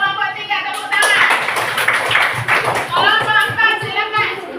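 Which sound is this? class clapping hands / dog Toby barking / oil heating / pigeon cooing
class clapping hands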